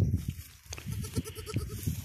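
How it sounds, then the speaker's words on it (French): A young Girgentana goat bleats repeatedly at close range, short wavering cries in a quick series with brief gaps, loud and clear with no talk over them. "Alors c'est une petite chèvre girgentane."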